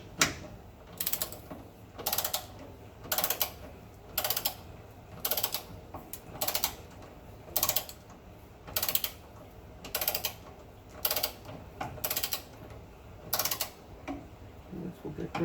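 Steady ratcheting clicks from a torque wrench tightening sway bar bolts on a 1970 VW Bus, coming in regular bursts of rapid clicks roughly every second, close and fairly loud over a quiet garage background.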